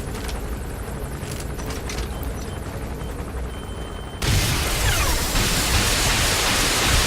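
Helicopter in Metal Gear Solid V gameplay, a steady loud rotor roar and wash that jumps abruptly louder partway through, continuous and close with no speech.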